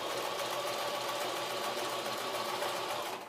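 A sewing machine hums continuously and fairly loudly, stitching wool locks into art yarn, a steady mechanical whir that cuts off at the end, with no voices.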